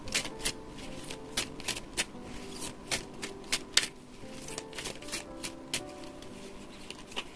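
Oracle tarot cards are shuffled by hand, giving a quick series of soft, crisp riffling bursts in an irregular rhythm. The sound is close and fairly quiet, with no speech.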